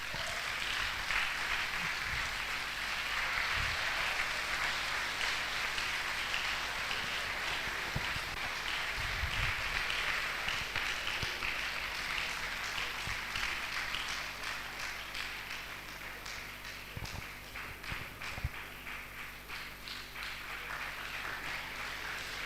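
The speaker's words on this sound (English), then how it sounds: "Let's keep clapping until she takes her seat." Sustained audience applause at a women's event honouring a retired professor, a soft, continuous patter of many hands heard from some distance that fades slightly toward the end.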